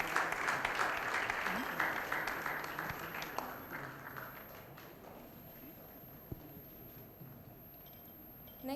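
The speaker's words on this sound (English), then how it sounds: "I think the clap should continue." Audience clapping at a press conference in India, a dense patter of hands that is loudest at the start and then thins and fades to a sparse, quieter level with a few isolated claps near the end.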